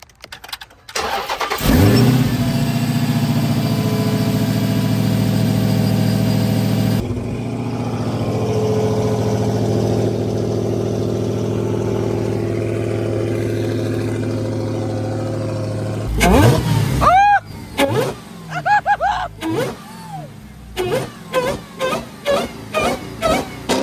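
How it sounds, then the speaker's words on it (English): A Hellcat-swapped car engine with a cold air intake cranks and catches, idles with a deep rumble, then fires off a string of sharp, loud revs that climb and drop in quick succession. "About to give y'all some cold air intake revs."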